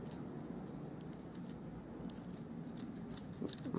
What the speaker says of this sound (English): So now carefully peel that off.